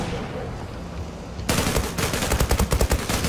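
Gunfire in the online shooter Zula: a quiet stretch gives way to loud, close rapid bursts of automatic shots in a steady rhythm for the last couple of seconds, with no talking.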